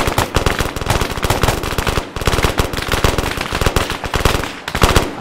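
Rapid automatic gunfire in Arma 3 during a New York City zombie attack, loud and close, with long rattling bursts of shots broken by a brief pause before firing resumes.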